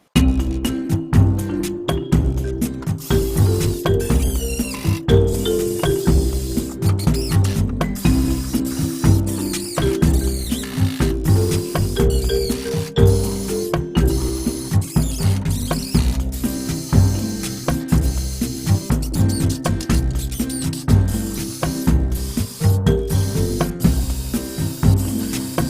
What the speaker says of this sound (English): All we need to do is glue and screw it together